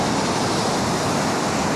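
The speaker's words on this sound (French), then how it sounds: "le bruit des vagues. Quand j'entends ça, j'ai l'impression d'être dans Titanic." Ocean waves wash onto a beach in the French countryside, a dense, loud, continuous roar of surf with no voices.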